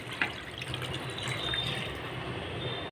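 Water held back from a spice paste is poured into a pan of katla fish curry with potatoes, making a steady close splashing and trickling for about three seconds before it stops abruptly.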